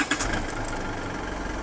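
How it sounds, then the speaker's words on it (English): A car engine idles steadily at moderate level after starting, a soft, even mechanical hum with light ticking and no voices. "Let's start up the car again."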